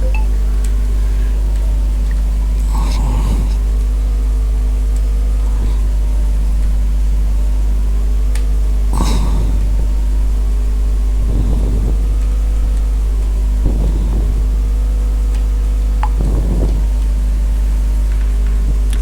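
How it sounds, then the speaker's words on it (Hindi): A scooter driven in the video game PUBG gives a steady engine drone that shifts slightly in pitch, broken by several short, sharp bangs at irregular intervals. "अब इसके ऊपर मैं आपको भागा भागी करके इसकी स्पीड वगैरह जो है वो चेक करा देता हूँ।"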